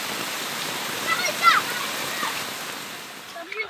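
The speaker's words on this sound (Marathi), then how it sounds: "एवढा पाणी भरलाय पुऱ्या ब्रिजला पण घेऊन पाणी भरलं आहे" Steady rushing floodwater pours continuously over a submerged bridge during heavy rain, a broad roaring flow with occasional splashes, fairly distant and moderately loud.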